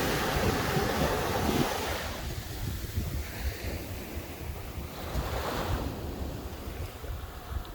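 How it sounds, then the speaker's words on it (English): Ocean surf washing onto a beach where people are fishing, loud breaking waves with wind buffeting the microphone, surging and easing in repeated swells with no talking. "Sound of the ocean, man."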